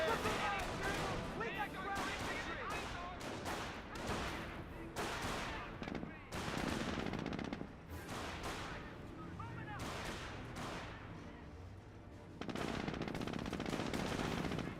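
Rapid machine-gun bursts and rifle fire in a Company of Heroes firefight, dense and continuous across the clip with heavier booms, mixed under game voice lines and a commentator talking.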